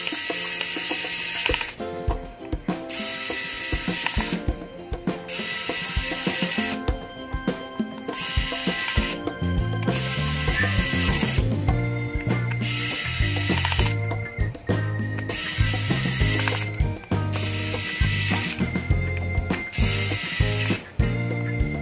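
Small screws being tightened with a hand tool while a Realme C12 smartphone is reassembled, with steady close ratcheting and clicking mechanical sounds over a loud background of continuous music.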